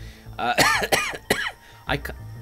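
A man coughs several times close to the microphone, loud harsh bursts in quick succession with brief gaps, the last one after a short pause.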